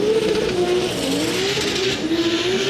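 Drift cars battling on Falcon tires at Formula Drift Texas, engines holding a loud sustained high-revving drone with wavering pitch and tire noise beneath, close and continuous.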